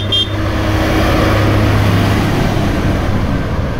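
A farm tractor engine drones loud and steady throughout, a constant low rumble with no talk over it.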